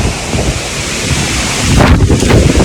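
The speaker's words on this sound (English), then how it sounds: "Much heavier wind, stain." Heavy wind from Hurricane Ida in New Orleans roars into the microphone as a loud, close, continuous rumble that builds slightly toward the end.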